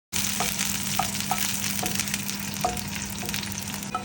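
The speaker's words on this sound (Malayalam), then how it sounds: "നമുക്ക് കടു ഒന്ന് പൊട്ടിച്ച് അതിനോടത്ത് ചേർക്കാം." Mustard seeds crackle and pop in hot oil as they are tempered for a sweet potato dish, a close sizzling hiss with scattered sharp pops throughout.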